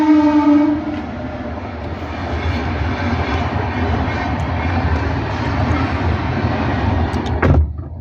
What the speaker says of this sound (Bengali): কত জলদি আসছে ট্রেনটা, দেখেছো?